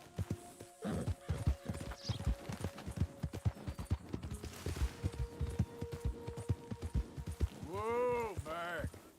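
Horse in Red Dead Redemption 2 clip-clopping at a steady gallop with rhythmic hoofbeats, a couple of whinnies near the end, and speech over the top.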